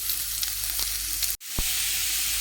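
Chopped onions and curry leaves frying in oil for uppittu, giving a dense, steady hiss of sizzling that drops out for an instant, then resumes with a soft knock.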